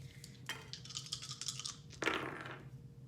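Astro dice are rolled, giving a quick series of light clattering taps and tumbling clicks, faint and close, then a final rattle as they settle.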